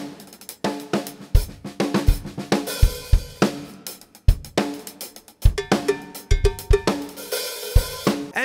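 Brass bootleg cymbals played as hi-hats in a drum groove, with crisp metallic chicks and washy taps riding over steady kick and snare hits in a repeating pattern, close and loud, with no talking.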